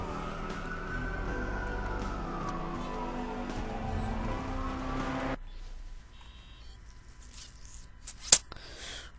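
A car in the video game Watch Dogs pulls away, a sustained engine drone with a sweeping pitch that cuts off abruptly, followed by quieter ambience and a sharp brief click near the end.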